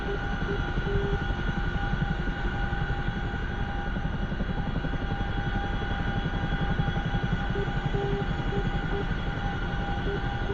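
A CH-47 Chinook tandem-rotor helicopter flying in the DCS flight simulator produces a loud, steady rotor and engine drone that holds evenly from start to finish, with no talk over it.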